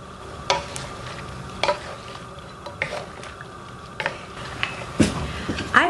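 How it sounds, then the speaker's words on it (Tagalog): Chop suey vegetables (pechay, baguio beans and cabbage) are stirred in a hot pan, giving a quiet, steady sizzle broken by several soft scraping stirs. "hahaluin natin ito ulit"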